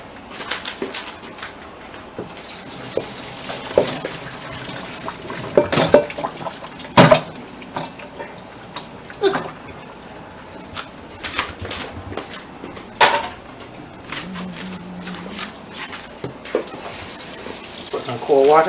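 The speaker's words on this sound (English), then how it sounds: "We're gonna strain it, and we're gonna put cold water in it so that the pork will start cooking," Cold tap water splashes in bursts onto cooked pork in a strainer over a sink, with irregular clattering and sloshing, close and moderately loud.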